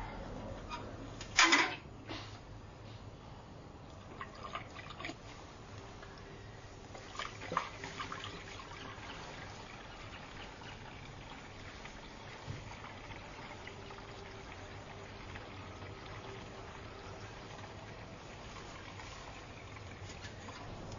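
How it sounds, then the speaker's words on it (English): Water pours steadily and quietly into a bottle for a long stretch during a ring infiltrometer test, a soft continuous trickling with a few brief clunks near the start. "we need to put some water in."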